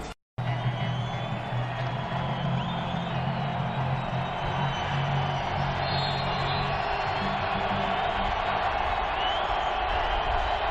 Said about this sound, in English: Crowd is into it as the Redskins start from the 9.